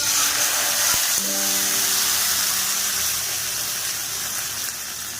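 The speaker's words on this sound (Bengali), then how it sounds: "রসুন আর কালো জিরে ফোড়ন এবার আমি দিচ্ছি টমেটো" Tomatoes drop into hot oil with garlic and nigella seeds in a karahi and set off a loud, steady sizzle close by. A brief clatter is heard near the start.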